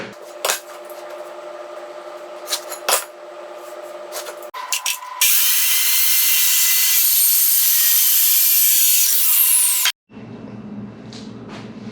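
A power saw trimming a wooden board to length on a workbench, heard as a loud continuous high whine for about five seconds, with light knocks and handling before it and a rattling spin-down after.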